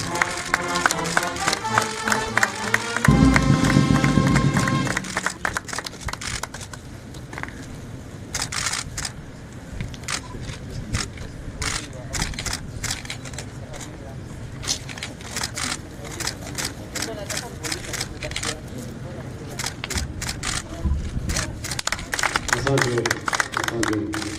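Applause breaks out at the inauguration of a hospital emergency building, with scattered claps and rapid camera shutter clicks over a long stretch, alongside talking voices and a busy crowd murmur.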